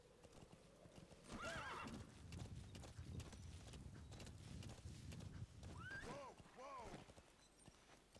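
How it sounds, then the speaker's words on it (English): Horse from Metal Gear Solid V: The Phantom Pain, its hooves clip-clopping steadily throughout with two loud whinnies, one early and one near the end, heard over game background sounds. "Get off the horse, kiddo."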